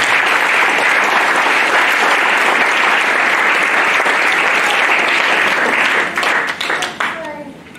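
A church congregation bursts into loud, sustained applause acclaiming the Lord, dense clapping filling the room for several seconds before thinning and fading out toward the end.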